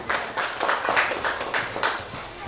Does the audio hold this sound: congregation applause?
yes